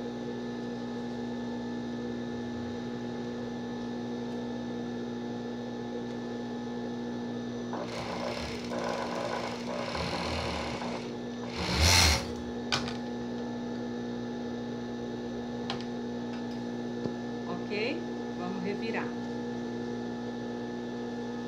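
Sewing machine stitching a fabric bra cup in short bursts, a quiet whirring run after a long pause over a steady mains hum, with a few light clicks afterward.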